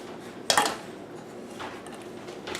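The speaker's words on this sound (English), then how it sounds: "what you're going to want to do next is you're just going to strain this" German chocolate icing is strained in a kitchen, with a sharp metallic clank of a utensil against a pot early on, followed by softer, scattered clinks and scrapes of metal against metal.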